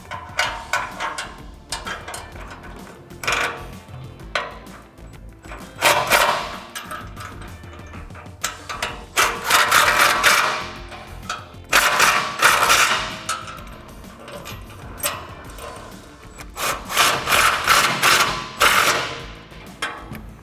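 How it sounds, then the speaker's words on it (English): Three 17mm bolts on a Barricade HD2 front bumper for a 2014-2021 Toyota Tundra being tightened with a wrench and an impact gun, with repeated loud rattling hammering bursts separated by brief pauses, close up and without talk. "I'm going to use my 17mm wrench and 17mm socket on my impact gun"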